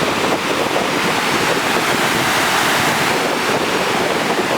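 The upper waterfall on a trail to Wallace Lake makes a steady, broadband rush with no breaks, heard close and loud, with wind blowing across the microphone and no voices.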